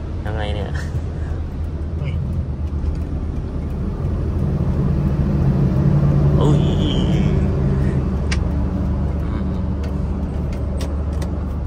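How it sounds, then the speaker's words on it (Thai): Steady, loud road rumble from inside a Toyota Vigo pickup as an 18-wheel truck passes fast, with a swelling whoosh midway and brief clanks, while someone talks over the drone. "18ล้อมาไวมากเลยอะ"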